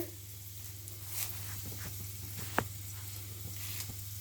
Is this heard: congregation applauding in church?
no